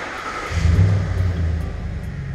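A 2011 Ford F-150 pickup engine starts and settles into a low, rumbling idle, a steady deep throb close by with faint background hiss.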